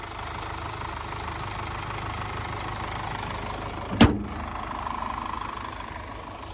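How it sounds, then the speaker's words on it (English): A 2023 Mercedes-Benz Sprinter limo's 2-liter inline-four twin-turbo diesel idles at a steady, low, even hum, with one sharp click or knock midway and no voices. "there's that 2-liter inline 4 twin turbocharged"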